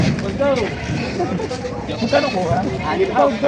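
Goats bleat repeatedly in wavering cries at a livestock sale in Padre Garcia, Batangas, mixed with several people talking loudly close by.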